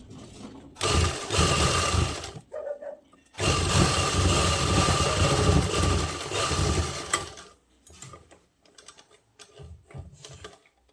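Domestic sewing machine runs in two long stitching bursts of steady mechanical whirring as a seam is sewn on cloth, followed by short stop-start runs and quiet pauses; no talking.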